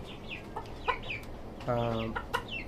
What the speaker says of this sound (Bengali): এই হচ্ছে আমার সাদা টাইগার মোরগ ও মুরগি